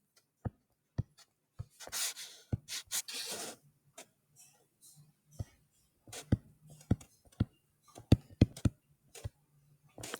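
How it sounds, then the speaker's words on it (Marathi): A pen or chalk writes a sentence with scattered taps, scratches and short rubbing strokes, close and quiet, with a few faint bits of speech between them. "मी एक वाक्य बघा लिहितो इथे"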